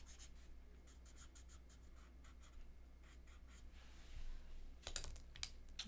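A colored pencil blender rubs across paper in a quiet run of short, soft scratchy strokes, with a few louder strokes near the end.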